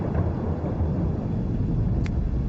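A deep continuous rumble of thunder from an approaching storm that may bring a typhoon, steady and fairly loud with a faint brief higher tick partway through.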